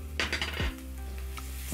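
Crushed garlic and ginger frying in hot chicken oil, with a soft steady sizzle and a couple of clattering stirring knocks early on, close and brief.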